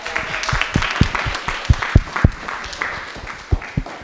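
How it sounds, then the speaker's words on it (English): Scattered, uneven handclaps from a small audience at a presentation, individual claps popping out distinctly at irregular moments rather than blending into a wash, close and moderately loud, thinning out toward the end. "So let's give them a round of applause"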